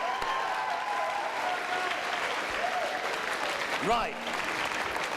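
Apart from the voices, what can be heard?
school assembly audience clapping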